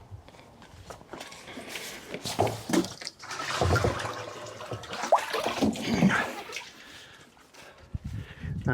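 Water splashing and trickling into an allotment water tank, irregular gushes rising and falling in loudness, close by with some footsteps and handling noises and no talking.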